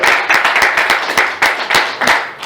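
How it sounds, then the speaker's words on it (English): An audience applauds at a church or community family gathering, a crowd of hands clapping in a loud, steady patter with a few sharper individual claps standing out, filling the whole short stretch. "Give them a nice round of applause."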